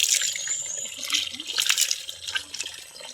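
Strong water gushing steadily from a tap or pipe at a bathing spot, a continuous close hiss of flowing water with no voices.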